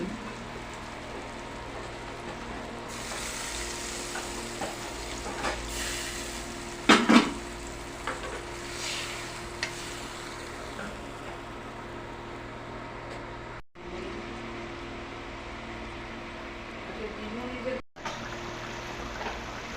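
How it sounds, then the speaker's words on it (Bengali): Water goes into a pan of frying eggplant and fish curry with tomato and green chilli, producing a long, steady hiss and sizzle with a few brief clinks along the way. "এবার আমি পরিমাণ মতো জল দিয়ে দিচ্ছি।"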